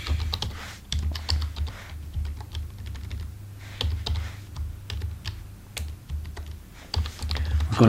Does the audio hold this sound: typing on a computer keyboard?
yes